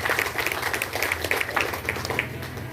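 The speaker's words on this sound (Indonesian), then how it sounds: "Tepuk tangan untuk Pak Haji Wagin Arman Esos." Audience applause fills a village recess meeting held by a regional legislator, steady dense clapping from a seated crowd lasting the whole stretch at moderate loudness.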